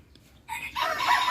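A neighbour's rooster crows once, quiet at first, then swelling into a fuller call, with chickens kept nearby in a village yard.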